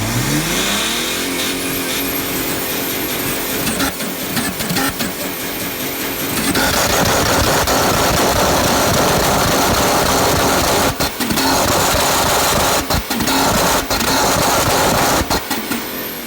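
A Mercedes E320 CDI W210 with a tuned OM613 diesel engine revs hard in a loud, continuous climbing roar that holds steady at high pitch, with brief dips suggesting the wastegate venting.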